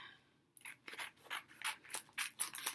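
Scissors snip through a sunflower sticker for a home decor craft, giving a run of about eight close, crisp cutting strokes in quick succession after a brief quiet start.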